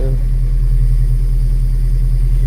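Steady engine idle of a 1986 Nissan D21 truck while gears are shifted, a loud, even low drone close by with no distinct revving.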